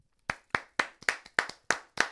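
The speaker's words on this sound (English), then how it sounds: "I'm going to clap for you." Hand clapping on a morning radio show, eight single sharp claps at a slow, even beat about a quarter second apart, close and dry, with nothing else heard between them.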